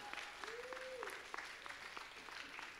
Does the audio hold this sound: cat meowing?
no